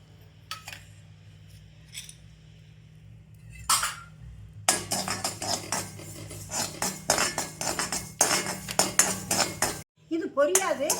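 Chia seeds stirred and roasted in a pan for homemade protein powder, with quiet sparse scrapes at first, then a long run of rapid metallic clinks and scraping from a spoon against the pan, close and busy, ending in a brief pause.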